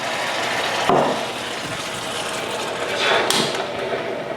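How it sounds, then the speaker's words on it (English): White wine poured into a hot pan while cooking fish en papillote hisses in a loud, continuous sizzle, with a couple of brief clatters or scrapes on top. "here we're gonna put the wine in. Ooh. Look at that sizzle."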